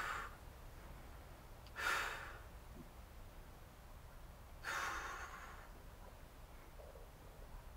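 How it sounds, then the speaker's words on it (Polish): Short, shallow breaths from someone holding an abs exercise during a core workout, two louder breathy exhalations standing out from a quiet background with softer breathing between. "Płytki, krótki oddech."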